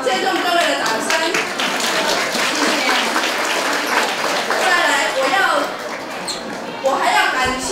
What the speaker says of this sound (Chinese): 谢谢各位的掌声。